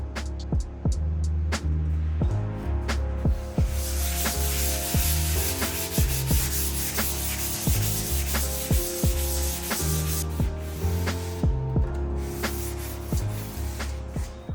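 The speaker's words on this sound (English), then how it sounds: "smooth it out with some really fine grit sandpaper" Fine grit sandpaper rubs back and forth across finished wood furniture in steady, repeated strokes, a close, continuous scratchy hiss with regular rhythmic pulses and no talking.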